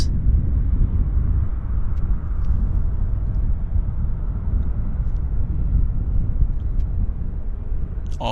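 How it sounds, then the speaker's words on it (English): A Cargojet Boeing 777-200 cargo plane taxis at Vancouver Airport, giving a steady, loud low engine rumble that holds evenly throughout with no talk. "Heading to Seoul. Cargojet. 777-200 Cargojet."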